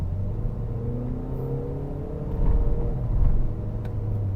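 A car engine revs and pulls under acceleration, a steady droning rumble with rising tones, swelling louder twice toward the end.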